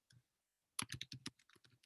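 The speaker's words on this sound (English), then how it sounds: "I'm just typing these in the chat so folks have them." Typing on a computer keyboard during a webinar: a brief tap, a pause, then a quick burst of close, crisp key clicks, alone without talk.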